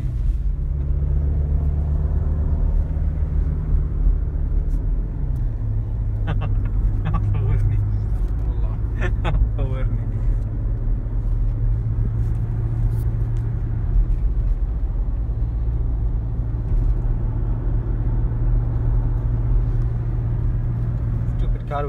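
Toyota Innova car driving, heard from the cabin as a steady low engine and road rumble throughout, with people talking over it.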